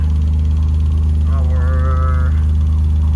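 A Smart 453 fitted with a return-style fuel system idles steadily. Its low, continuous engine hum runs throughout, with a brief tonal whine or voice-like sound partway through.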